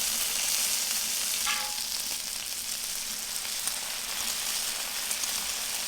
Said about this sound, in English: Okay, so we have our bacon on.